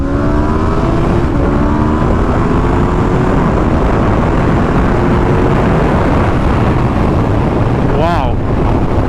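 A 2021 Aprilia RSV4 1100 sport bike ridden in sport mode roars loudly up close, its engine note climbing through the gears under heavy wind rush, with a quick rising whine near the end.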